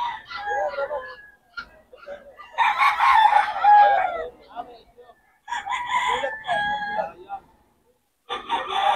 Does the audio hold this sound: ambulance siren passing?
no